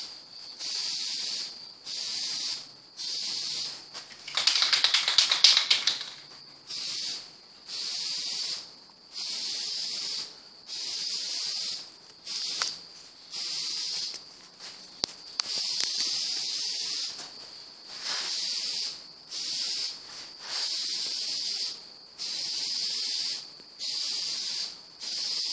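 A spray paint can lays a dust coat onto a bumper cover in repeated bursts of steady hissing, each a second or two long with brief gaps between, close and fairly loud, with one louder burst early on.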